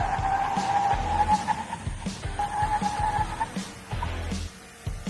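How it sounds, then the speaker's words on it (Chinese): A Chery Fengyun T10 mid-to-large SUV brakes hard in repeated emergency stops on a test track, its tires squealing and skidding in sustained screeches with engine and road noise underneath. "然后这台车呢，我们做了5次的连续紧急制动"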